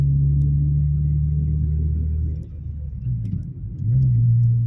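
A car fitted with a GReddy chambered muffler drones steadily from inside the closed cabin with the air conditioning running, a deep bassy exhaust note that dips briefly and then swells again.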